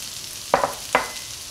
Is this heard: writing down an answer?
no